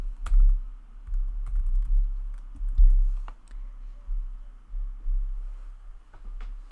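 Close, quiet clicks of typing on a computer keyboard come in short irregular bursts and single taps, with small pauses between words, over a faint steady room hum.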